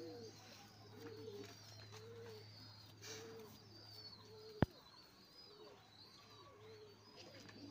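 Breeding pigeons of an old Kotashi lineage coo repeatedly in soft, rolling phrases close by, with chirps over a steady low hum and one sharp click midway.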